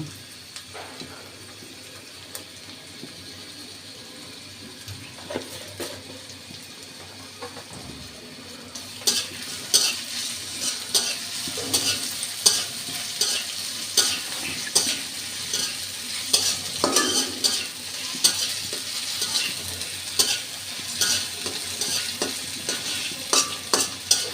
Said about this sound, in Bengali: আমার পেঁয়াজ হালকা ভাজা হয়ে গেছে